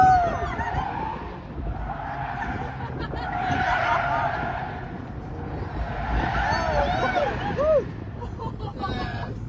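Hyundai N car tires skidding and squealing through a drift ride, a continuous loud screech that swells and fades in waves over engine roar, with people laughing and talking alongside.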